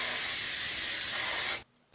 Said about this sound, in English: We're gonna take our hairspray and give the back of the hair a little spray.